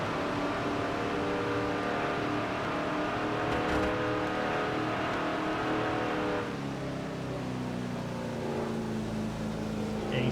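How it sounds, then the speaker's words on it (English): A race car engine in a NASCAR-style racing video game drones steadily as the car slows to the pit road speed limit at Talladega, a continuous mid-level hum that drops in pitch partway through. "He heard Kyle slowing the car down to about 65 miles an hour, which is the pit road speed limit here today at Talladega."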